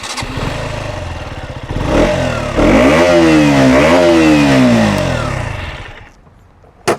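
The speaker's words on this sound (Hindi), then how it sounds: "अगर आपको इसका एग्जॉस्ट नोट सुनना है तो वो कुछ ऐसा साउंड करता है।" A KTM Duke 125 motorcycle with an underbelly exhaust revs hard close by, its single-cylinder note climbing and falling in a couple of sharp blips before dropping back to idle and a final short blip.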